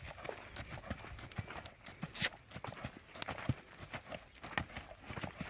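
A horse canters on long lines, hooves striking in a steady three-beat rhythm of soft, fairly distant thuds, with faint voices now and then.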